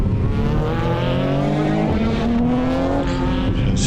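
Engine and exhaust of a BMW M140i in a video game, a loud, steady drone that climbs in pitch under acceleration, with a brief dip as it shifts before rising again.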